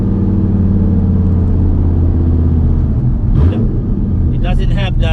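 A built Dodge Viper engine running smoothly at steady revs, a loud continuous rumble close by with even pitch and no stutter, and brief voices talking over it near the end.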